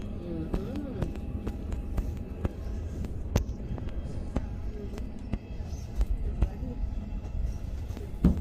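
A train to Rapperswil along Lake Zurich clatters steadily, with a regular series of sharp rail-joint clicks over a low rumble, while people talk nearby.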